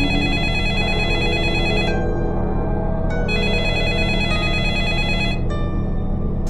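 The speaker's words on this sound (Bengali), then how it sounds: "দেরি করিস না ভাই, ফোনটা ধর ধর, না হলে কেটে যাবে।" A cartoon telephone rings at night in an animated Bengali ghost story, a loud, steady electronic ring that repeats in bursts with short gaps, heard alone.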